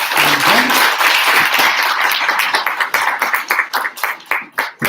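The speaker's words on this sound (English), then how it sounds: "use round of applause to the president" Room full of people clapping for a president at a launch event, dense applause at first that thins out into scattered individual claps near the end.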